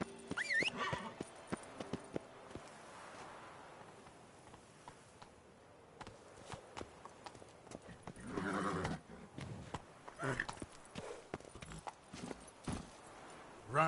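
Roach the horse gallops in the video game Witcher 3: Blood and Wine, with rhythmic clip-clopping hooves that come in uneven bursts and occasional whinnies, fairly quiet and alone.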